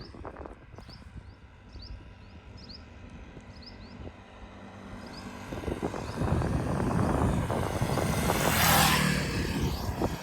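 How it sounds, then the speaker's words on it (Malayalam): Two motorbikes approach along a desert road in the Thar Desert near the India-Pakistan border. Their engine drone builds from faint and distant to a louder, closer roar over about ten seconds, with no voices. "രണ്ട് ബൈക്ക് വരുമുണ്ട് ഇവിടുന്ന്"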